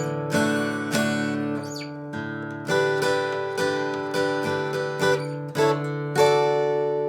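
An acoustic guitar plays the chord part of a song, with bright strummed chords changing in a steady rhythm, clear and close, and no voice over it.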